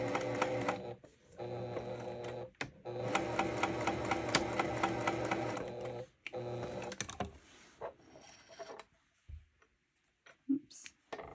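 A sewing machine runs in steady bursts while stitching a cross-stitch pillow finish, with a long run, a brief pause, then short back-stitching spurts and quiet handling noises toward the end.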